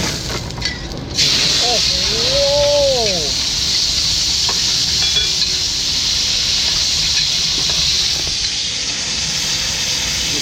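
Soup stock poured into a hot wok at a Thai made-to-order food stall, hissing and sizzling loudly and steadily from the first second onward, close up, with cooking noise underneath and brief whistling tones early on.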